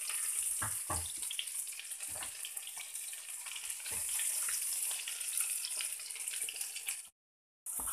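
Garlic sauteing in a pan gives a continuous hissing sizzle with occasional soft knocks and stirring, close and steady, then cuts out briefly before the end.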